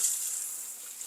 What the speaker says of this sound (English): Gonna run the water.